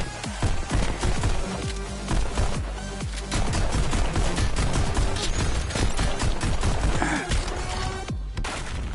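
Loud, rapid gunshots from the VR rhythm shooter Pistol Whip, sharp repeated cracks in quick bursts throughout over a dense, thumping music track, with no talking.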